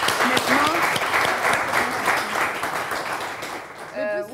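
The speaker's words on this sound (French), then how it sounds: "Est-ce qu'on peut applaudir pour ça, franchement?" Studio audience applauding on a cooking talk show, a dense burst of clapping under a speaking voice that fades toward the end as talk takes over.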